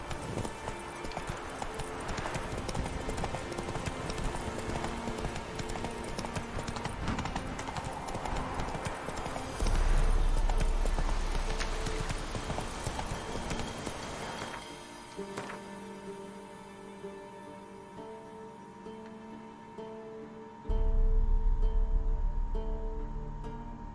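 Horse hooves gallop in The Witcher 3, a steady, rapid clip-clop close and continuous, with a rider urging the horse on and game music underneath, the pace slowing briefly partway through.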